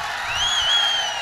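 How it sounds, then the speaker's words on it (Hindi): Audience applause and cheering for a poet at a comic shayari mushaira, a broad wash of crowd noise holding steady at moderate volume for about a second, with a faint whistle-like tone running through it. "तो एक मरतबा मेरे लिए तालियां बजाए दोस्तों"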